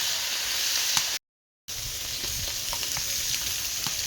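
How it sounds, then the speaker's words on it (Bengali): Pieces of shankar fish, a stingray, fry in hot oil in a village kitchen, giving a steady loud sizzle with a few faint pops and crackles. The sizzle cuts out briefly for a moment of silence, then resumes. "এবার যে কটা মাছ ছিল পরে সে কটাও ভেজে নেব।"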